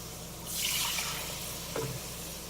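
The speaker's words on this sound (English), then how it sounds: "Now I'm going to add 4 cups of milk." Milk being poured into a pan for white sauce, a soft liquid splash and gurgle that swells and then fades into a quiet trickle, close and faint with no talking.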